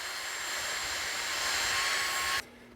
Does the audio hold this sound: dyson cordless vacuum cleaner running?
yes